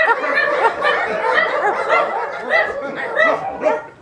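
A group of people imitates a dog's bark with their voices at a didgeridoo workshop, with overlapping woofs mixed with laughter and chuckling.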